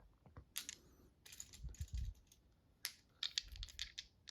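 A handful of dice, part of a pound-sized collection, roll and clatter on a surface in scattered bursts of light plastic clicks and rattles, quiet and close, with short pauses between throws.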